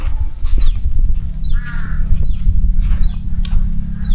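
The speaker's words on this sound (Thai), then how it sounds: "อีกานี่เยอะเลยนะ" Several crows caw repeatedly near a waterfall in Chaiyaphum, Thailand, their harsh calls loud and close, rising over a constant low rumble of background noise.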